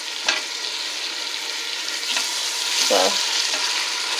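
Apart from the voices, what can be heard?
meat frying in a pan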